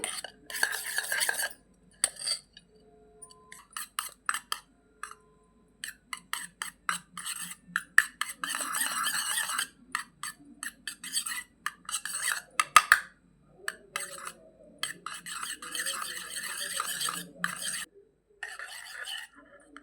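A spoon stirs and scrapes a homemade cracked-heel foot cream mixed with a few drops of lemon juice in a small bowl, producing close, irregular bursts of scraping and clinking with short pauses.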